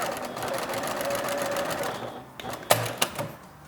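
Sewing machine stitching the top edge of a folded washed-linen pocket, a steady close whirring run that slows and stops with a few soft mechanical clicks at the end.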